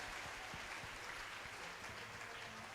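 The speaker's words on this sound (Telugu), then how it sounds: "అందరూ గట్టిగా చప్పట్లు కొట్టండి" A crowd at a morning prayer gathering in Nandyala claps together in steady, dense applause that stays even and somewhat distant, with faint voices underneath.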